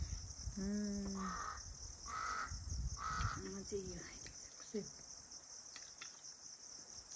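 A crow caws several times in short harsh calls, close by, over a constant high cricket drone, with a couple of softer sounds near the end.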